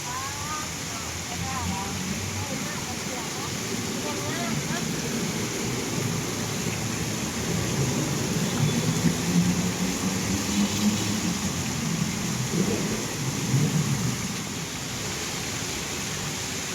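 Rushing water from an artificial waterfall at Siam Paragon in central Bangkok, a steady broadband wash heard close and continuous, with traffic and city murmur underneath.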